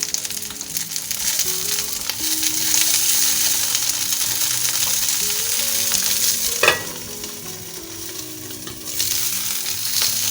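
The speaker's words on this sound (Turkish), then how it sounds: "biberlerimiz yavaş yavaş kızarmaya başladı" Peppers fry in a pan with a steady, close crackling sizzle, broken by a single sharp utensil clank partway through.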